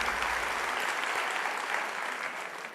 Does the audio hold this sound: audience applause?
yes